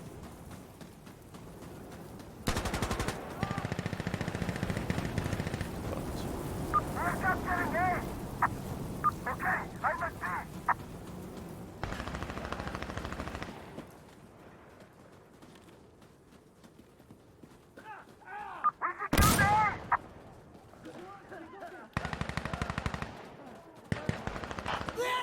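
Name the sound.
gunfire in a video game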